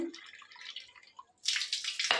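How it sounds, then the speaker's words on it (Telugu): Bore-well water runs from a connection into a cup, a soft trickle at first, then a louder, bright splashing stream near the end, with no one speaking. "ఈ 3వ కప్లో వచ్చేసి బోర్ కనెక్షన్ నుంచి వచ్చే వాటర్ తీసుకుంటున్నాను"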